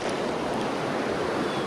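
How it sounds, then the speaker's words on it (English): Swift floodwater rushes near mobile home parks in Buncombe County, whipping back branches as it flows. It makes a steady, dense roar with no pauses or voices. "Swift water whips back the branches of Mother Nature"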